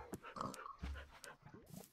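Dogs in the video game Minecraft give a few faint, quick whimpers and yips, broken up by short breathy sounds.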